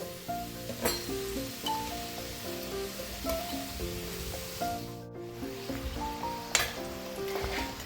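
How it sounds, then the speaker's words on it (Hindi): Mawa gujiya frying in hot oil over a medium flame, a steady crackling sizzle that continues throughout, with background music playing over it. "देखिए मेरी गुजियां कितनी अच्छी सिक रही हैं और ये ऑयल में अपने आप ही ऊपर की तरफ आ गई हैं"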